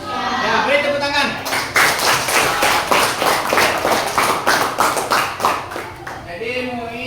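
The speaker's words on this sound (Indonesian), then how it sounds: "Ya, beri tepuk tangan." A classroom group claps hands in a quick, even rhythm for several seconds, the sharp claps loud and close, with talking just before and after the burst.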